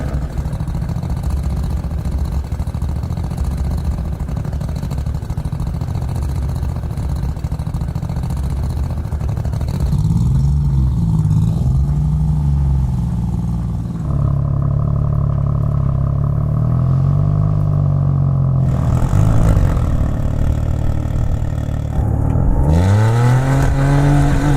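A Koenigsegg Gemera, a 2300 hp four-seat hybrid megacar, drives with a steady engine drone, then revs up repeatedly in rising surges, loud and close from inside the car.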